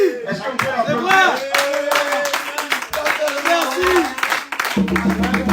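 Church audience clapping in bursts beneath loud, continuing speech and voices, the applause uneven and partly masked, with a musical passage coming in near the end.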